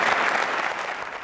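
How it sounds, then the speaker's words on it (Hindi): A brief burst of dense audience applause in a university law college hall, clapping steady and fairly loud for about a second. "तालियां बजाइए उनके सम्मान में जोरदार तरीके से"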